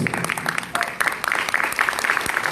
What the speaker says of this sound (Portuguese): mais uma vez os aplausos